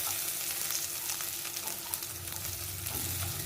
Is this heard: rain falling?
no